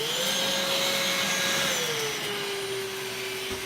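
A VAX Blade 32V cordless vacuum cleaner on carpet, switched from boost to low power mode, whines steadily and close, its motor pitch dropping partway through and then holding lower.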